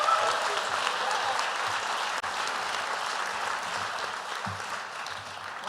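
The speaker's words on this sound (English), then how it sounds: "Give her a hand of applause." Sustained audience applause at an executive MBA commencement ceremony, dense steady clapping from a large crowd that fills the whole stretch.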